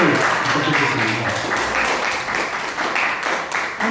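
Steady applause fills a church founding service, with a congregation clapping continuously throughout and voices mixed in underneath.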